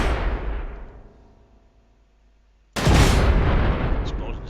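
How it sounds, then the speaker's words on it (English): Warhead explosion in the game Space Engineers: a loud blast fading into a long decaying rumble, a quiet gap, then a second sudden heavy boom with a crackling, noisy tail. "Explosion's a little bit in your face"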